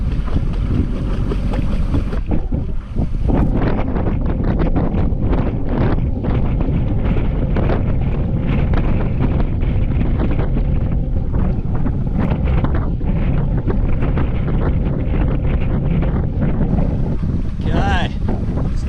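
Wind buffets a sailboat at sea off the Alaska Peninsula as it motors slowly into a headwind through shallows; steady loud rushing and microphone roar with splashing water fill the whole stretch.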